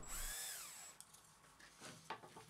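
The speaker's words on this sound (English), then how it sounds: "on the bit of material I want to make the circle out of, I find the centre point and drill a hole through" A power drill bores a hole through wood for a bandsaw circle jig, its motor whining briefly up and down before stopping, followed by faint workshop clicks and handling sounds.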